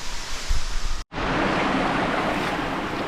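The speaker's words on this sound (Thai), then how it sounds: "น้ำตกอยู่นู่นครับ ไหลลงมาครับผมครับ" Khlong Lan waterfall pours down in a steady, broad roaring rush, loud and close, briefly cut out for an instant before resuming as a constant wash of falling water.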